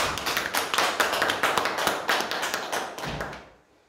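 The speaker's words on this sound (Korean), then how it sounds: "박수 좀 쳐주세요." An audience at a Buddhist monk's dharma talk claps together, a close, rhythmic patter of hands with regular accents that thins out and stops just before the end.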